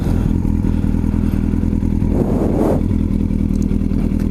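A Yamaha R1 sport motorcycle idles steadily with a low engine drone, coasting with the clutch pulled in, then a brief throttle blip raises the pitch as it pulls away in first gear, close and loud throughout.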